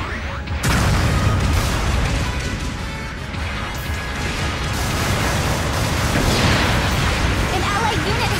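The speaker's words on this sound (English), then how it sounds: "Long-range supporting fire incoming." Long-range supporting fire explodes in the mech combat game Gundam Battle Operation 2, a sudden heavy crash giving way to sustained rumbling blasts and debris noise.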